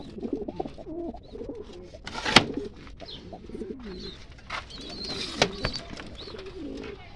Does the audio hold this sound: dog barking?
no